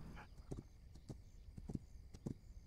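Horse hooves clop at a slow walking pace in the This Land Is My Land video game, about five soft, evenly spaced steps over a faint background hum.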